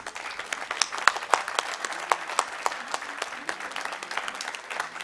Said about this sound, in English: I think we need another huge round of applause